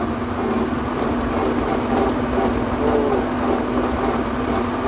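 A low, steady engine hum from a YuMZ farm tractor runs throughout, quiet and continuous with no speech, idling nearby.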